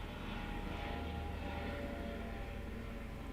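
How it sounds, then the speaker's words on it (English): A low-flying helicopter or plane passing close overhead, a steady droning engine rumble with a continuous low hum that holds at a constant loudness throughout. "It's a helicopter or plane coming in very low."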